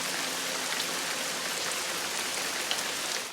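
Steady rain pours through a nighttime electrical storm in a TV drama scene, a dense, even hiss of drops hitting surfaces close by, holding constant throughout with no voices.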